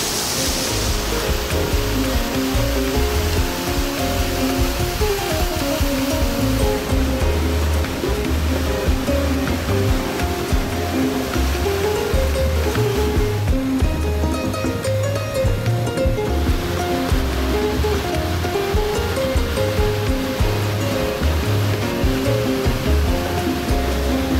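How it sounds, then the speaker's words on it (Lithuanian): The Kwanza River rapids in Angola, rushing over many rocks, make a loud, continuous roar of churning white water that fills the whole stretch, with no voices. "Važiavau dar į vieną vietelę Kvanza upės slenkščiai."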